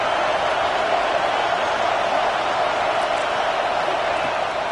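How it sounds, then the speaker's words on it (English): A home crowd in a football video game keeps up a steady, dense roar of cheering that stays loud and unbroken throughout, with no clear peaks or pauses. "Man, this crowd really affecting the football game."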